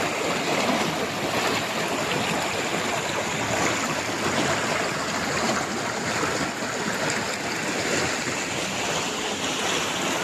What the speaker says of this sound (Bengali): দেখুন ঝর্ণা খুব সুন্দর।